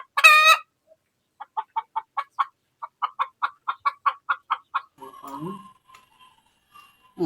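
Chickens cluck in a rapid, evenly spaced series of short notes near a homemade nesting spot, with a brief squawk at the start and a voice speaking near the end.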